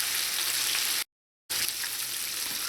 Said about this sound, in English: So I'm just going to let this fry for like 2 to 3 minutes